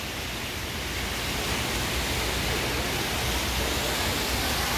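An indoor waterfall beside a freshwater aquarium inside a large outdoor-goods store gives a steady, dense rush of falling water, continuous and fairly loud, with no talking over it.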